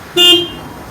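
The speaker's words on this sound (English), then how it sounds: "This is how the horn sounds like." A Toyota Corolla Quest sounds its horn in one short blast of about a quarter second, loud and close, then silence.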